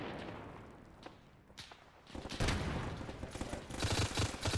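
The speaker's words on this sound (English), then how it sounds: "the T-28 is shooting at us" Rapid bursts of aircraft gunfire from a T-28 in the Arma 3 combat game, thin at first, then swelling into loud, dense fusillades and booms in the second half.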